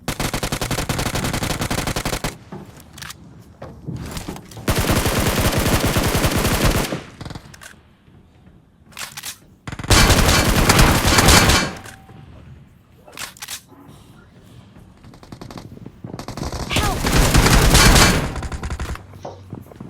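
Heavy automatic gunfire in PUBG Mobile (BGMI) comes in loud sustained bursts of rapid shots, separated by quieter gaps, with several long volleys across the stretch.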